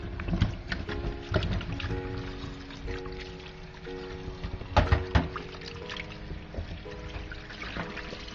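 Rinsed sweet potato and yellow yam drain off in a kitchen, with faint water trickling and dripping alongside soft clatters and bumps, close by and quiet, with no talking.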